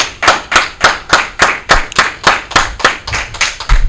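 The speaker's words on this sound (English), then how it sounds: "y'all clap it up, clap it up" A congregation at a Sunday scripture gathering in Houston claps together in a steady rhythm, about thirteen loud, sharp, close claps evenly spaced, with no talking between them.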